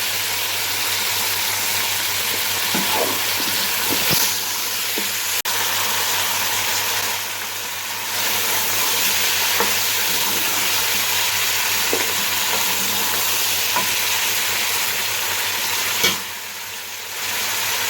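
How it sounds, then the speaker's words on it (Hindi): Beef frying in a pot for nehari, a loud continuous sizzle with occasional scraping stirs and brief dips as the spoon moves through the meat, close and dominant throughout. "ये देखिए 5 से 7 मिनट हो गए, हमारा बीफ कितनी अच्छी तरह से भून गया।"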